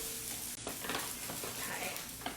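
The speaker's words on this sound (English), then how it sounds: "so that's like sizzling away" Steady crackling sizzle of food frying in a pan, fairly close, with a brief clink of a utensil partway through.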